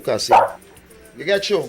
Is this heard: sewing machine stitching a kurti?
no